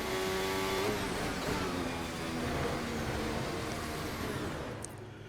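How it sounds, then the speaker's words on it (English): A 2026 Formula 1 car's engine screams at high revs through a fast lap, shifting pitch as it accelerates and brakes, heard from onboard as a continuous, fairly quiet drone with no talking. "This one will have no commentary, so you guys can enjoy the engine sound on the best lap."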